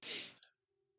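One short, breathy sneeze bursts out close to the microphone and cuts off abruptly, followed by near silence with a faint hum.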